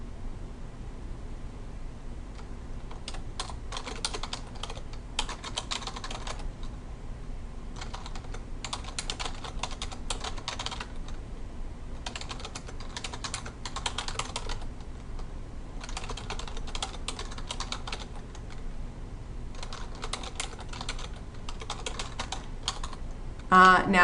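Typing on a computer keyboard while writing in Microsoft Word, bursts of quick light key clicks a few seconds each separated by short pauses, close and fairly quiet over a faint steady hiss, ending with a louder clack.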